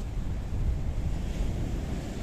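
Mediterranean Sea waves breaking on the shore, a continuous loud rumbling wash mixed with wind buffeting the microphone, no voices.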